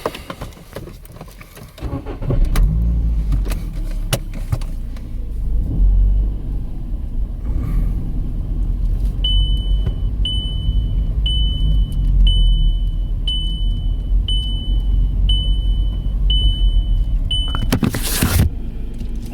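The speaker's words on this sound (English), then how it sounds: "That was me braking, by the way." A VW Golf with a steering angle sensor fault drives and brakes, giving a steady low road and engine rumble from inside the cabin. A regular beeping warning chime repeats over the second half.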